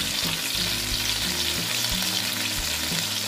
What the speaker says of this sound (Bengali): এখন এই পিঠটা ভেজে নিই